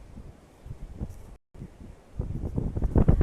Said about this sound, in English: I know it's incredibly windy.